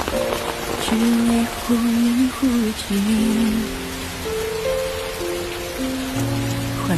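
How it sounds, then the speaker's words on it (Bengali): Steady rain hisses down throughout, with soft sustained musical tones playing over it. "হঠাৎ করে বৃষ্টি শুরু হয়ে গেল।"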